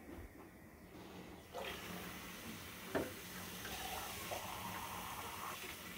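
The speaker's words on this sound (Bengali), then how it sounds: "পানি অ্যাড করে দিই।" Water poured into a cooking pot while making chicken pilau, a steady continuous rushing pour that runs throughout at moderate loudness with no speech.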